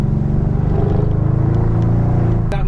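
A BMW V8 engine drones while driving, a loud, close, throbbing low exhaust note with a fast steady pulse, holding even before a brief shift near the end.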